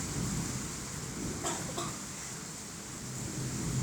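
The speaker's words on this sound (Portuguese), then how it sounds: "Tá dando uns raios muito fortes aqui." Heavy rain hisses steadily through a thunderstorm in Caratinga, Minas Gerais, with a couple of brief crackling bursts from nearby lightning around the middle and no clear rolling thunder.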